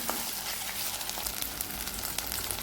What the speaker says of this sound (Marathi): आता यामध्ये टाकत आहे मी अद्रक लसणाची पेस्ट, ती सुद्धा आपल्याला व्यवस्थित परतून घ्यायची आहे।